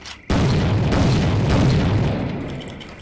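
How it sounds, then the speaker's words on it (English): An exploding box blowing up in the Soldier of Fortune video game: a sudden, loud blast that bursts in at once, then rumbles and slowly fades over about three seconds. "And this is probably more exploding boxes."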